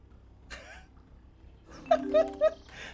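Birds chirping in the gardening video game Bunhouse, a few quick bright chirps clustered near the end, faint and sparse over a quiet background.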